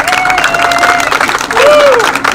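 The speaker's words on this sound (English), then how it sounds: "Go ahead, round of applause. Let's give them one." Car club crowd at an evening meeting giving a short round of applause, clapping and cheers mixed with voices and a whistle, fairly close and lively.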